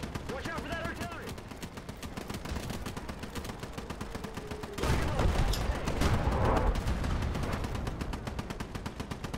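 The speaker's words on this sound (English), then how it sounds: "Watch out for that artillery!" Dense, continuous battlefield gunfire and heavy booms in the WWII strategy game Call to Arms Ostfront, with rapid automatic bursts throughout and a louder, fuller barrage joining partway through.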